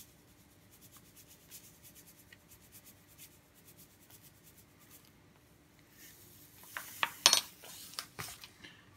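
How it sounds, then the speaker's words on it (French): A spoon stirs sugar into a fish-sauce dipping sauce for spring rolls in a small bowl, soft scraping and rubbing that grows into brisk clinks of metal against the dish near the end. "et on vient bien mélanger jusqu'à ce que le sucre soit plutôt bien dissous"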